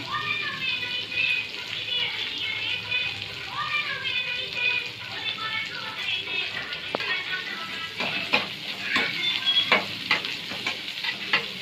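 Onions with salt fry in a pan for a mutton fry, giving a continuous crackling sizzle with occasional stirring scrapes and knocks, while voices talk in the background.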